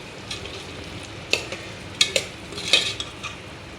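Green chili paste stirred into whole masoor lentil khichdi in a pan, a few sharp scraping strokes of a spoon rising over a soft steady sizzle, close and fairly quiet.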